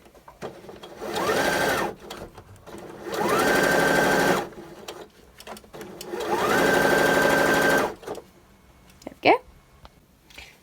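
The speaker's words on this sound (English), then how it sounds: "We're just going to sew this top corner." A sewing machine stitches the top corner of a jacket in three short bursts, each motor whir ramping up then stopping, with quiet pauses and a small click at the end.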